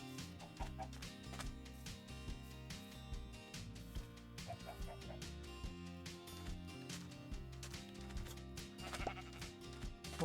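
Sheep bleating in Minecraft with the GregTech New Horizons modpack, several short, repeated bleats heard over continuous game music in the background.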